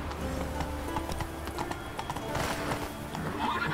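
Roach the horse galloping in The Witcher 3, rapid rhythmic hoofbeats pounding close and loud throughout, with a brief whinny-like cry near the end.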